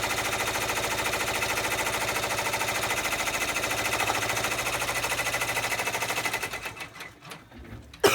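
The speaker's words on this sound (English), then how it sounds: "You hear it kind of struggles going over that resin zipper, so your machine might not be able to make it over there." A sewing machine stitches over a resin zipper while sewing a phone case key fob. Rapid, steady, loud mechanical stitching runs for about six seconds, then slows and falters into uneven bursts as the needle struggles.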